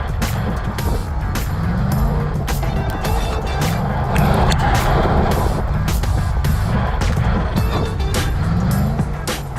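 Muscle truck driving hard with wheelspin, a loud continuous engine roar and tire noise close by, punctuated by sharp bumps and thumps.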